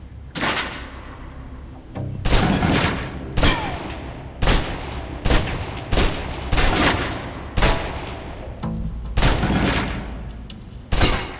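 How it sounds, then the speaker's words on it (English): Submachine gun in the video game Alpha Protocol emptying a full magazine, loud sustained bursts of rapid automatic gunfire broken by short pauses, with no talking. "Now, let's move on to the submachine gun. Now let's empty the clip."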